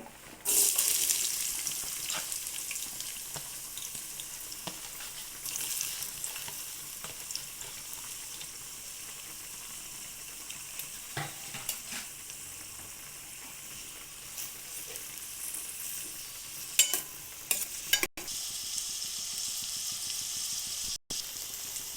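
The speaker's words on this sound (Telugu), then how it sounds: "ఆయిల్ వీటెక్కింది ఇందులో ఉల్లిపాయ ముక్కలు వేసుకుందాము" Onion pieces fry in hot oil in a pan, making a loud, steady hiss and crackle that runs throughout with small pops, close by and with no talk over it.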